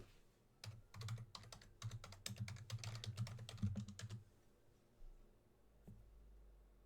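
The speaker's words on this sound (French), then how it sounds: "Si on tape Shalmoun Star Wars." A search is typed on a computer keyboard, with a quick run of soft, steady keystrokes for a few seconds before it falls quiet, heard faintly against low room hum.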